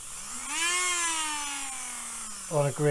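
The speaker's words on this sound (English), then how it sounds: "you can use an electric drill, a bit like a Dremel" A small electric rotary tool like a Dremel whirs with a high, steady whine that rises and then slowly falls in pitch. It ends in a brief choppy burst as the tool is checked before working on a Titanic model kit.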